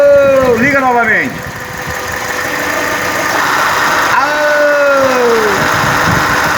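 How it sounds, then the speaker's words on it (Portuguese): A Hyundai Tucson's air conditioning compressor runs alongside the idling engine, a steady mechanical hum with a brief dip in level, and someone talks over it near the start and again later. "Dá uma ouvidinha no barulho do compressor da bichinha, ó."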